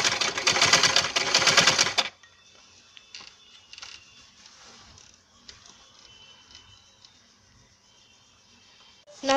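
A sewing machine stitching bias tape onto a garment neckline whirs loudly for about two seconds, then stops, leaving faint handling clicks and rustles.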